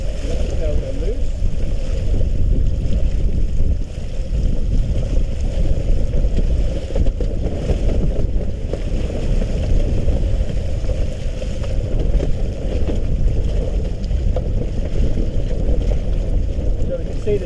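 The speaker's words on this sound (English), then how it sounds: "See, the sail is now coming down." Mainsail on a sailboat being let loose and lowered while under way in wind, heard as constant loud wind and water rush with flapping and rustling throughout, no clear distinct events.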